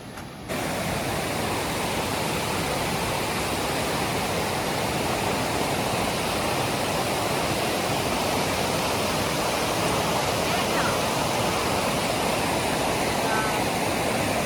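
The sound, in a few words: waterfall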